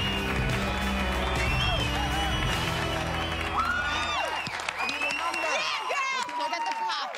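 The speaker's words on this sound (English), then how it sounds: "The crowd was going completely ballistic for her." An audience cheers and claps for a young girl performing in a hip-hop-themed children's beauty pageant. The lively crowd noise is mixed with whoops and overlapping talk.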